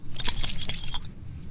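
Metal coins shaken and shuffled in the hands for an I Ching reading: a quick burst of bright jingling and clinking lasting about a second, close up, then quiet.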